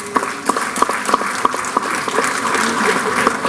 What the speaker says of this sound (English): Big clap for you.